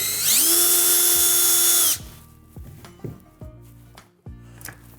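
Power drill backing out screws from the rear panel of a saddle, a loud sustained whir for about two seconds, then several short clunks and knocks of the tool and parts.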